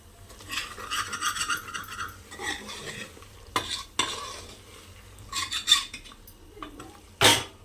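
A spoon scrapes and stirs drumstick greens with tomato and sambar powder in a metal pan, producing irregular bursts of scraping and clinks with a soft sizzle beneath, and a sharp utensil knock near the end.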